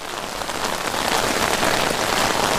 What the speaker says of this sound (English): So we got a hard rain.